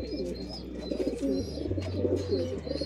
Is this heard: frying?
no